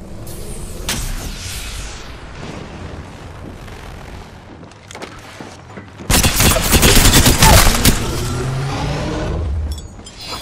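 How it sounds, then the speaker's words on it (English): Gunfire in the video game Apex Legends: a steady run of game sound gives way to a loud, dense burst of rapid shots lasting about two seconds, followed by lingering, echoing action noise. "They're shooting at me!"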